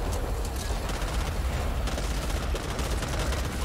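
Dense, continuous gunfire from the co-op zombie shooter Back 4 Blood, a steady loud barrage of overlapping shots with no pauses and no voices.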